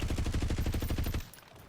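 Call of Duty machine-gun fire, a fast evenly spaced burst of about a dozen loud close shots that stops abruptly and leaves a fading tail.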